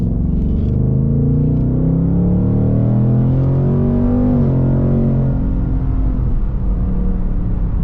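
A 2024 Mustang GT V8 hums and rumbles steadily through its exhaust as it accelerates, a deep continuous drone with rising pitch, close and fairly loud, with no talking.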